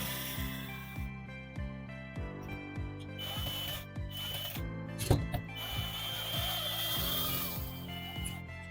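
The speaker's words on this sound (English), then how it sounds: "now I'm going to use this drill" A power drill drives screws to mount a TV wall bracket onto a wood panel, short repeated whirring bursts with rising and falling pitch, close, with a few clunks between.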